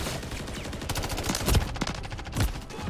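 Gunfire rattles in Modern Warfare 3 beta match, dense repeated shots with a couple of heavier booming reports standing out, loud and close throughout.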